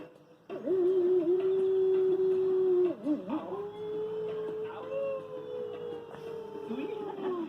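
A person imitates a wolf howl, a long sustained wavering cry that rises and slides into a second drawn-out howl, loud and close.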